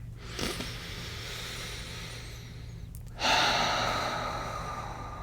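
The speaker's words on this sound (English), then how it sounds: "Let's take one last breath on purpose together, breathing in all the way." One slow, deep inhalation is drawn in near the end and trails off into a long exhale, preceded by a quieter earlier breath, over a steady low background hum in a calm guided meditation setting.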